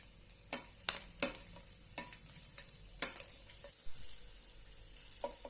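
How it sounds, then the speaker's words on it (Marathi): Four or five garlic cloves fry in oil in a pan for tomato bharta, giving a quiet, steady sizzle broken by sharp clinks and scrapes of a stirring utensil, close by with no talk. "आता यामध्ये चार पाच लसणाच्या पाकळ्या घालूया आणि छानपैकी फ्राय करून घेऊया"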